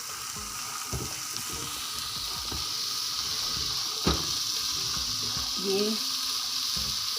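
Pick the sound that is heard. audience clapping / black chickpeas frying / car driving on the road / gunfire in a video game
black chickpeas frying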